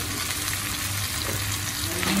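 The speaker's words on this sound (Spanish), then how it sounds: "Perfecto, y seguimos friendo." Potatoes and onion sizzle and fry in a pan, a dense, steady crackle that runs loud and close without pause, with no talking.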